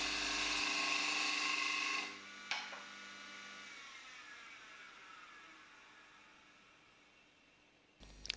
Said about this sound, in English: A more refined cut is made by rotating the gouge a little more until we cut on the centre part of the lower wing.